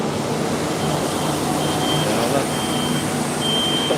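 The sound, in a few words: truck reversing beeps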